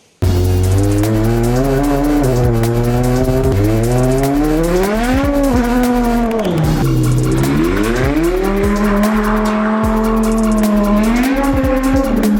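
A BMW M6 with a V10 engine and DCT gearbox revs hard and loud up close, its high wailing note climbing and dropping through several seamless upshifts, with brief tire squeal.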